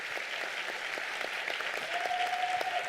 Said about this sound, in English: Another round of applause for the choir,